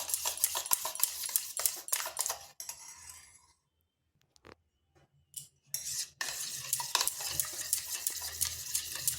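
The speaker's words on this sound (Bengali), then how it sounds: "এগুলো ভালোভাবে মিশিয়ে নিচ্ছি।" Spoon stirring half a spoon of ground black pepper and half a spoon of garam masala into a flour-and-egg batter in a bowl, quick clinking scrapes in bursts with a short quiet pause midway, close and fairly soft.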